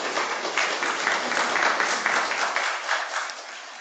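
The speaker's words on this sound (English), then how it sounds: "let's give them a round of applause for all their efforts" A room full of people claps for the coordinators at an academic welcome session, a dense burst of applause that holds steady, then thins out toward the end.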